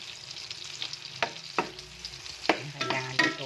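Hotdogs fry in a pan with a soft, steady sizzle, broken by several sharp scrapes and clacks from a utensil as they are turned.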